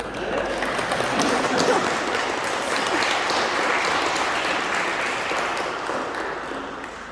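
Congregation in the church of Saint Eloi in Yvoir applauding during a Sunday Mass, a steady wash of many hands clapping that holds strong for several seconds and then tapers slightly.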